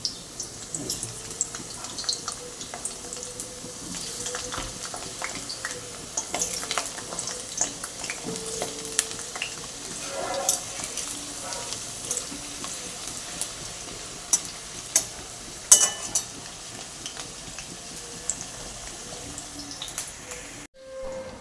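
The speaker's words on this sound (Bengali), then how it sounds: "এদিকে আলুটা ভাজা হচ্ছে" Potatoes fry in hot oil in a kadai with a steady sizzle throughout, with occasional clinks and stirring scrapes; no talking.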